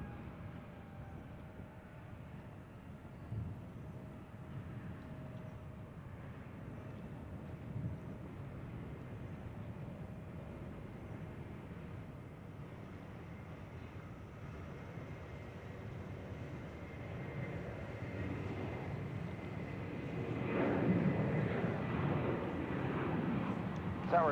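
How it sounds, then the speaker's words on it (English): Airbus A320 airliner at Reagan National Airport, a steady broadband roar of jet engines that builds toward the end as the aircraft nears, with faint background talk. "That's an A320."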